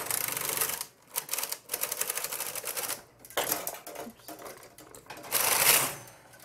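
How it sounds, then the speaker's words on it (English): A knitting machine carriage slides across the needle bed, knitting a tuck stitch row from a punch card pattern, with a steady close mechanical clatter and rattle that briefly pauses and then resumes louder, and a voice speaks over it at times. "And then we can start knitting from left to right."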